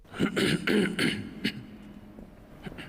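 Someone gives a few short, rough coughs in quick succession during a speech, close and fairly loud, followed by a quieter throat sound and faint background noise.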